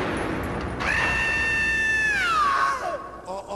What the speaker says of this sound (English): Although a blood-curdling scream is just as good.